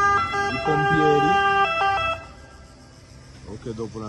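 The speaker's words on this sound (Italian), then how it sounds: "sentiamo arrivare i vigili, perché in questo momento vedete stanno arrivando i pompieri" Fire engine siren arriving at a burning business in Magenta, its loud wailing tones sweeping up and down before briefly fading and then returning close by.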